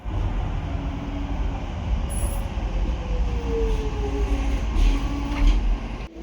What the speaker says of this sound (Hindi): हम ना अपनी ट्रेन की सबसे फर्स्ट बोगी में बैठे हैं